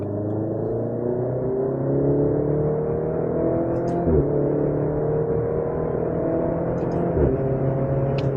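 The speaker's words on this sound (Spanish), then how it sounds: "ese bramido del escape, esos petardeos, hacen que te diviertas" A Maserati Grecale GT 2023 SUV driven hard on the road, its engine and exhaust droning in a steady, loud roar with rising pitch as it accelerates and brief shifts or dips around the fourth and seventh seconds.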